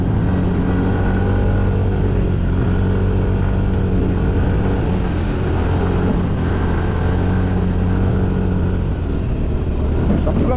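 Motorcycle riding a rough mountain road in Tacadang, Kibungan, Benguet, its engine droning loud and steady throughout with a rumbling low-end, the ride sounding worn as if a bearing needs replacing.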